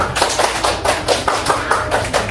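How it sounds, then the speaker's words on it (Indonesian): A classroom gives a student named Raska a short round of applause, steady rhythmic clapping lasting a couple of seconds. "Aplaus untuk Raska"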